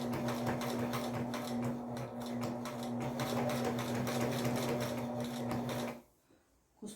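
Sewing machine quilting a patchwork baby blanket, a continuous close whirring hum with a rapid needle rattle that stops abruptly near the end.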